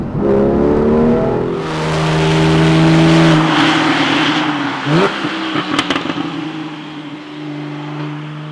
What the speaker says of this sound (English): with the optional sports exhaust it just sounds fantastic